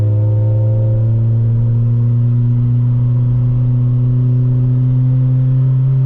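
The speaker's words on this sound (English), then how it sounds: "You can't even hear the car because this NB is so loud." A loud Mazda Miata NB's engine accelerates, its steady droning exhaust tone climbing gradually in pitch, close and continuous, with no talking.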